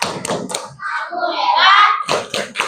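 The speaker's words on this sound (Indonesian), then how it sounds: "beri tepuk hebat untuk kelompok 5" A primary school class in a group lesson performs the 'tepuk hebat' clapping chant for a group of classmates: bursts of rhythmic hand claps at the start and end, with children's chanting voices in between, close and lively.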